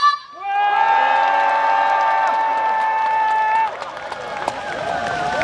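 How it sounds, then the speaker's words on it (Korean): Audience at an outdoor concert during the Cheongsong apple festival, with a long sustained whoop held over the crowd, then broad cheering and applause that carry on to the end. "더 크게 박수와 함성!"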